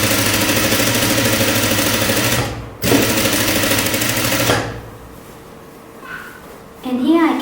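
Sewing machine stitching a jumpsuit seam runs in a loud, steady mechanical whir for several seconds, stops briefly, resumes, then cuts off, with a voice speaking once it goes quiet.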